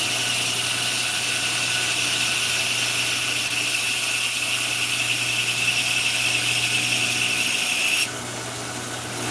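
Steady high whine of a power grinder working a blade in a blacksmith shop, running continuously for about eight seconds before the pitch drops as the grind eases off.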